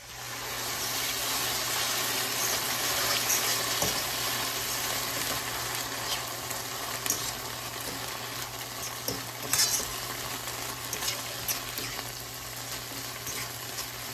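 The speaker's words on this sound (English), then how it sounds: "I want to add a little water." Water poured into a pan of chickpea and potato mixture sets off a loud, steady sizzle and bubbling hiss, with light stirring and occasional utensil clinks against the pan throughout.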